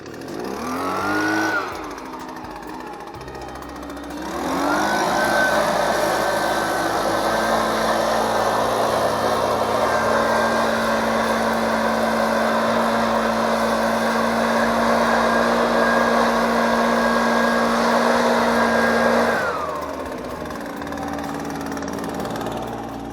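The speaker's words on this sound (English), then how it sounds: "We're going to use the leaf blower." Leaf blower blowing out a 1970 Dodge Dart Swinger Super Bee that sat unused for 35 years, spinning up with a rising whine, roaring steadily and loud for about fifteen seconds, then winding down.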